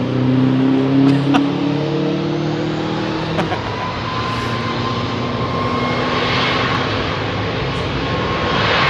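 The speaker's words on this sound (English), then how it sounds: "Thought it was a bleeding Chinook for a minute. It's a bleeding Subaru." A Subaru car drives past near Heathrow Airport's runway 27R with a deep, throbbing engine roar that sounds like a Chinook helicopter. It is loud at first, then the tone sweeps down and fades into a steady, broad rumble.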